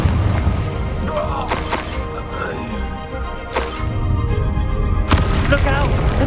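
Repeated Confringo blasting-spell explosions in the Hogwarts Legacy video game, sharp booming cracks at about 1.5, 3.6 and 5.1 seconds over a dense bed of game music and battle noise.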